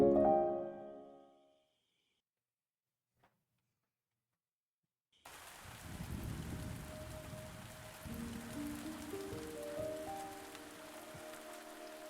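A steady wash of rain on a cold stormy night in a quaint village in The Spirit and the Mouse video game, starting abruptly after a quiet stretch with soft musical notes and continuing as a dense, even patter with faint tones layered over it.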